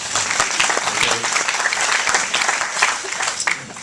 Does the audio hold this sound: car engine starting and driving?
no